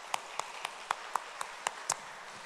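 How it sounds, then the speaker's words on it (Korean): Scattered, sparse hand claps from a church congregation during a Sunday afternoon worship service, about eight separate sharp claps at an uneven pace over a quiet room. "박수로 하나님께 영광 올려드리겠습니다"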